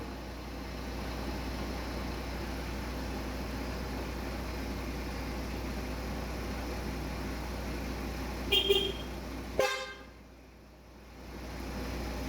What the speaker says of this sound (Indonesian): Klakson aman